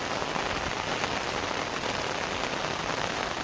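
Heavy monsoon rain pours down in Mumbai near a flooded railway station, a dense, steady roar of drops on surfaces that stays loud and unbroken throughout.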